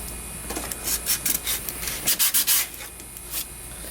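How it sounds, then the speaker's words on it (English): Scratchy, uneven rubbing of sandpaper against a fiberglass Sea-Doo XP hood, a series of short irregular strokes, close and moderately quiet with no voices. "we're going to go ahead and try to sand this down so that the glue sticks better to this"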